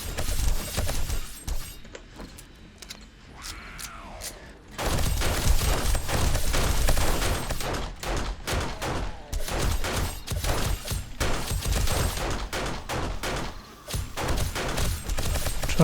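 Rapid, sustained bursts from an M60 machine gun in a zombie horde-night survival game, loud and close, with a quieter stretch before the heavy firing resumes in long dense volleys with brief pauses.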